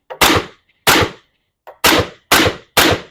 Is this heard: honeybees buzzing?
no